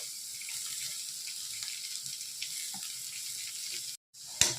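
Onions sautéing in a pan for chicken kuruma, a soft, steady frying hiss with faint scattered crackles, broken by a brief dropout and a sharp click near the end.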